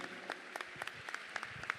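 Scattered applause at a fight event, given in tribute; quiet, sparse handclaps spread through a thin room tone rather than a full ovation.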